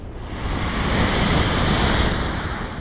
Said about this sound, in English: The waves were a bit larger than before